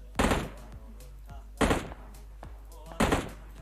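Three loud, sharp gunshots ring out at even intervals in PUBG Mobile on the Vikendi map, each with a short decaying tail over a low steady hum.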